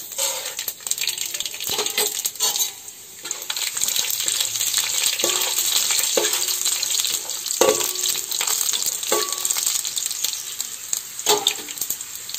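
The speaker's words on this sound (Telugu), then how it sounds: "ఇదమ్మ పోపులమ్మ, ఆవాలు, మినపప్పు, శనగపప్పు" Mustard seeds, urad dal and chana dal crackle and fry in hot oil with ridge gourd for a Telugu-style beerakaya fry, a steady loud sizzle broken by sharp pops and occasional stirring clinks.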